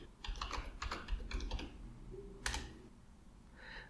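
Computer keyboard typing a software name into a web browser search bar: quick bursts of close, crisp key clicks in an irregular rhythm, with a sharper clack near the end and a few lighter taps afterward, no talking.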